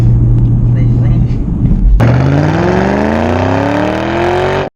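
A 2007 Mustang GT V8 with straight-piped exhaust from the catalytic converters back: a deep idle suddenly roars into a loud, rising rev, the exhaust rumble climbing in pitch and holding strong until it cuts off.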